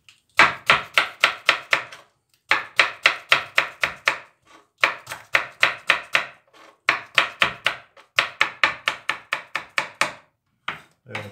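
Steady knife chopping of sweet green pepper on a board, coming in rapid bursts of crisp, close cuts separated by brief pauses, repeated several times with no talking.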